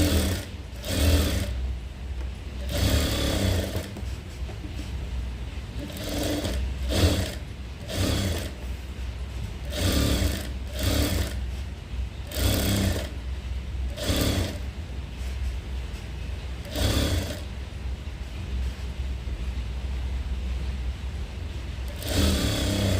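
A sewing machine stitches a blouse lining in short repeated bursts, each loud mechanical run starting and stopping in an irregular rhythm, close up and without any talking.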